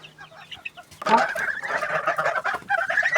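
Two-week-old chicks peep and chirp in soft high calls, joined after a moment by a louder, busier chorus of cheeping from a small flock nearby, no speech.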